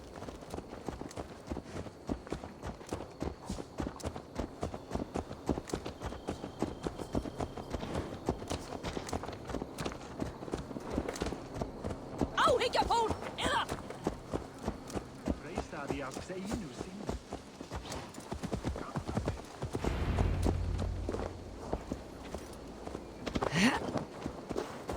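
Horse hooves clip-clop at a steady walking rhythm in Assassin's Creed Valhalla, close and continuous under background game sounds, with a few heavier thuds toward the end.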